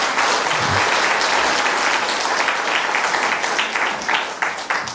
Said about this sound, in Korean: 우리 박수 한 번 더 치.